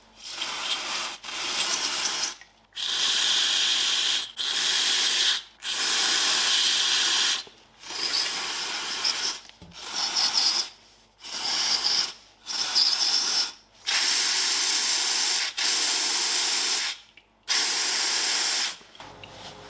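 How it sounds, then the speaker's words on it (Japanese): Aerosol parts cleaner blasting carburetor parts clean, loud close hissing sprays in repeated bursts of one to two seconds with short gaps between them, steady and harsh throughout. "基本ブラシ使わずにパーツクリーナーとかで吹き飛ばすように洗っていきます。"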